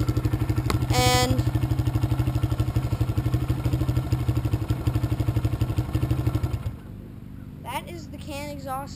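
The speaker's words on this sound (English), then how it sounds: "exhaust that I made for my dirt bike." A dirt bike engine fitted with a homemade soda-can exhaust idles with a rapid, loud, steady popping exhaust, then cuts off, leaving quieter background sounds and a brief voice.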